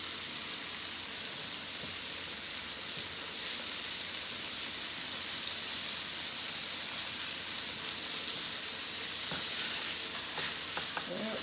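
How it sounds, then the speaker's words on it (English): Cube steaks brown in a frying pan with a steady, close sizzling hiss throughout, plus a few faint clicks of a utensil near the end; no one speaks. "We don't want to cook them no more than about maybe 10 minutes on both sides and just let them brown."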